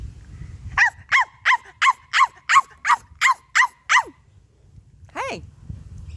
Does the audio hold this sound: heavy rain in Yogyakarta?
no